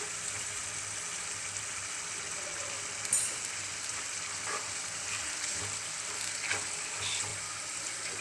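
Beef keema sizzles in a pan with a steady, soft frying hiss, with a few faint clinks of stirring.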